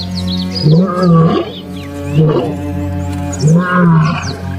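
An old male lion in Hluhluwe–iMfolozi park, South Africa, gives three deep, loud, drawn-out roars in a slow rhythm, each rising and falling, over a steady low hum with faint bird chirps.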